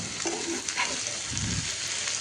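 A sauce of vinegar, dried chili flakes, sugar and roasted cumin powder simmers in a pan, giving a close, continuous sizzle with soft stirring scrapes mixed in.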